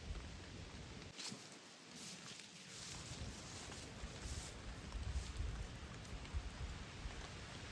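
Steady monsoon rain falling and pattering on surfaces on a hill trek in Konkan, a constant wash of noise at low level without pause.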